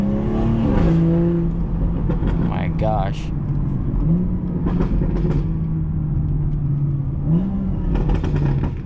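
A car engine revs up and drops back through several downshifts, with strong low engine tones, while someone talks over it close by.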